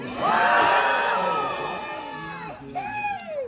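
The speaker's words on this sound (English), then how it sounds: "I want to hear a great big, loud and rowdy Blue Mountain cheer" An audience at a lumberjack show erupts in a loud, rowdy cheer of whoops and screams, peaking at once and then tapering off, with a few individual shouts rising again near the end.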